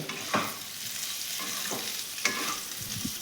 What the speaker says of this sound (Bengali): দেখো আমার আলুগুলো ভাজা হয়ে গেছে